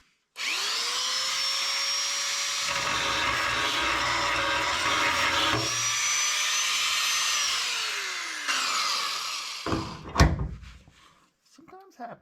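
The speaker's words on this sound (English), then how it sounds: "I got to sand some of this off" A power sander works the metal floor pan of a 1967 Mustang before welding, a close, loud whirring grind that holds for several seconds, changes pitch, and then winds down into clanks and handling noise.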